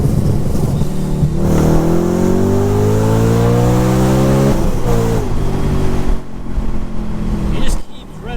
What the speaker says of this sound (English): Here's a second gear downshift.